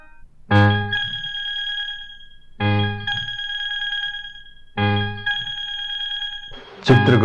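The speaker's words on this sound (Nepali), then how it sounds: "दूर संसारको घण्टी बजिरहेछ, सुन्नु भएन?" A bell rings in three separate bursts, each a sharp bright strike followed by a long sustained ringing tone, with a noisy clatter at the end.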